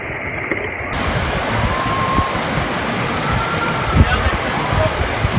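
Steady broadband rush of flowing water, continuous and fairly close, like a stream running over rocks, with no voices.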